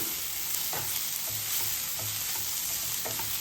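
Chutney mixture being stirred in a hot pan on the stove, steady frying sizzle with soft rhythmic scrapes of the spoon repeating about every half second, close and continuous.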